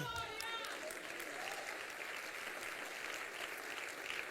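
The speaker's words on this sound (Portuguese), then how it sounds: "Pode aplaudir ao Senhor" A church congregation applauds the Lord during a Sunday service, steady broad clapping filling the hall for several seconds, with a brief voice at the start.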